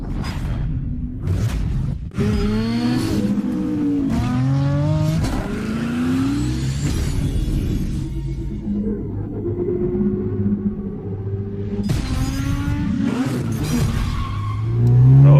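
A 1979 Fiat 124 Sport Spider with a 2000 engine and 2-barrel carburettor revs and accelerates in repeated rising pulls, close and loud, with a steady engine rumble between bursts and a final surge at the end.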